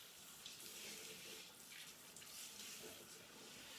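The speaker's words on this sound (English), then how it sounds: "Turn the water back on." Water runs from a tap to rinse short, coarse 4C hair, a continuous hissing stream that swells and softens as it hits the hair and the head, at a moderate distance.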